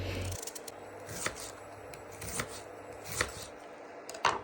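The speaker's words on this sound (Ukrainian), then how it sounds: "Ріжемо одну цибулину кубиками" Quick, crisp knife chops dicing an onion on a cutting board, several soft cuts in an uneven rhythm, close by with no talking.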